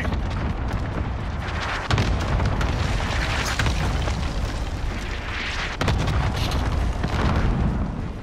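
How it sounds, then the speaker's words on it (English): An enemy cruise missile strike explodes in Call of Duty Modern Warfare, heavy booming blasts with two sudden loud hits over a dense, continuous roar of battle noise that lasts several seconds. "Enemy cruise missile incoming."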